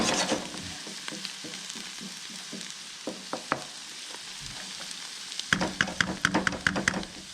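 Oyster mushrooms sizzle in a frying pan as their water cooks off, giving a steady close hiss broken by sharp pops and crackles that grow louder and denser toward the end.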